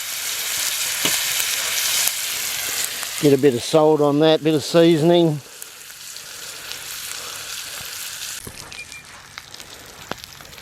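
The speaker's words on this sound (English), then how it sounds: "Oh, we got a bit of sizzle going," Steady crackling sizzle of steak frying in a pan, with someone speaking briefly over it partway through.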